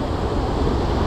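Sea surf churns against rocky shore crags during fishing, a steady loud broadband wash of water and wind roar with no distinct breaks.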